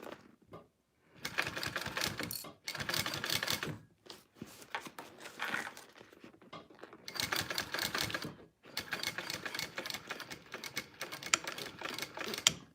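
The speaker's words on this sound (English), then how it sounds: "Got that all top stitched." A sewing machine top-stitches a Teloujay 2.0 bag in several rapid mechanical bursts of a few seconds each, separated by short pauses, close and fairly loud with no talking.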